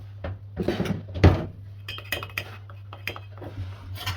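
Oil and spoonfuls of flour for samosa dough are stirred together in a bowl with a metal spoon, making a close run of clinks and scrapes with one louder knock, over a low steady hum and no speech.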